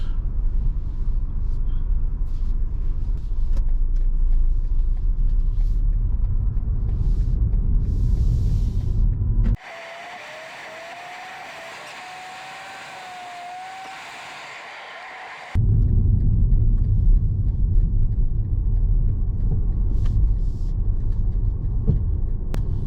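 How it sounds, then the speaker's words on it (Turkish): A car drives toward a market with a steady low engine and road rumble inside the cabin. A quieter stretch in the middle carries a faint whine before the rumble returns. "şimdi arabaya bindim. Markete doğru gidiyorum arkadaşlar."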